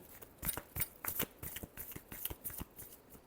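Tarot cards being shuffled close up, a quick run of crisp riffling flutters in short bursts, quiet and alone with no voices.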